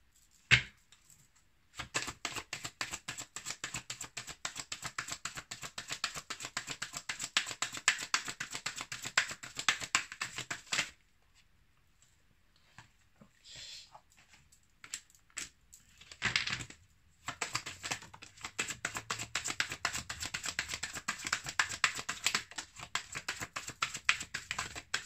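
Tarot cards are shuffled and laid down in quick, dense rapid-fire flicks and riffles. The sound stays close and fairly loud, broken by a quiet gap around the middle, with no talking.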